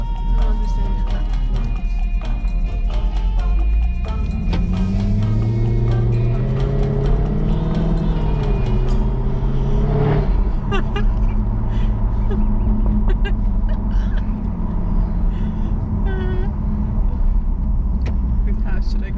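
A 550 horsepower supercar driving, its engine droning loud and close inside the cabin, rising in pitch as it accelerates then settling, with people talking over it.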